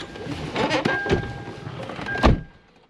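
A car door swings shut with a solid thunk near the end, following some clattering and rustling inside a parked car while a dash cam is being installed.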